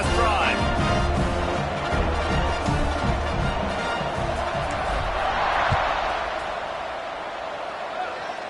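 A football stadium crowd keeps up a broad, steady roar and cheer at a game, with a commentator talking over it throughout and the noise easing slightly near the end.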